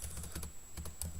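A terminal command typed on a computer keyboard, a quick run of close, crisp key clicks in an uneven rhythm with no talking.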